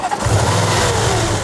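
The direct-injection engine of an Audi A6 C7 revs up and holds a steady, loud, throaty hum with a fine ticking texture, heard close and alone.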